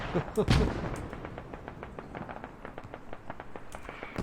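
Mortar fire in the video game Squad: a loud near blast opens, then a scatter of distant impacts and sharp pops crackles steadily, with quiet talk faintly underneath.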